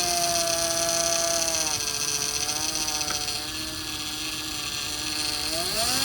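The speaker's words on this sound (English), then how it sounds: "Hear the power steering." The power steering of a 2000 Acura TL gives off a steady whine close by that slides in pitch as the wheel turns, carried over an idling engine hum with no talk.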